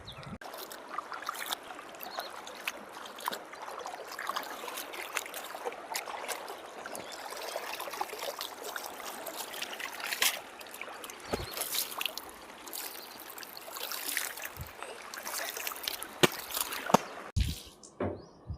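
River water flows and trickles steadily in an outdoor setting, a soft continuous wash with small splashes and lapping bursts throughout, fairly close and moderate in level, with no voices.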